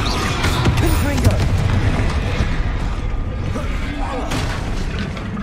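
Booming blasts from the Confringo spell in Hogwarts Legacy, a dense run of explosive thuds and rumbling bursts carrying on loud throughout, with busy game noise and a voice under the chaos.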